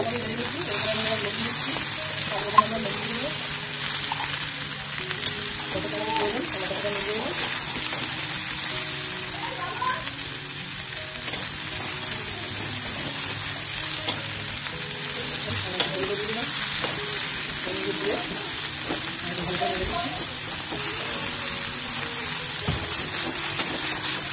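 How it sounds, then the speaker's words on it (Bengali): Onions frying in a pan for a potato and white sesame paste dish give a steady, close sizzle throughout, with occasional stirring clatter and no one speaking. "এর সাথে আমরা পেঁয়াজগুলো দিয়ে দিচ্ছি, এর মধ্যে দিয়ে আমরা একটু ভালো করে ভাজা হতে দেব"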